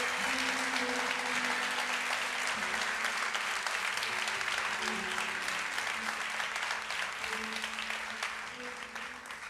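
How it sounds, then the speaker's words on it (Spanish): Church congregation standing and applauding with full force, a dense, loud, sustained clapping that fills the whole stretch, with faint tonal background sound underneath. "Y si vamos a darle un aplauso a Dios, démoselo con toda fuerza."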